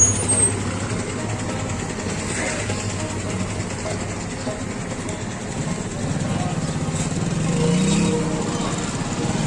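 A bus from Junagadh arrives and pulls to a stop on a rainy day, its engine a steady low rumble close by that swells slightly toward the end, with faint background voices.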